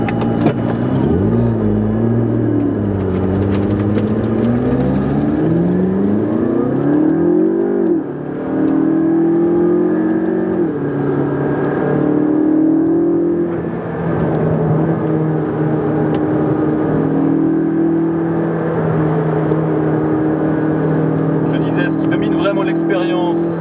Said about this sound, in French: mettre en marche la voiture